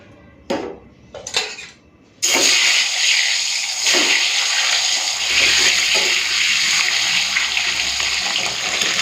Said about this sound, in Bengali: তেলটা গরম হয়ে গেছে এখন হাঁসের ডিমগুলো ভেজে নেব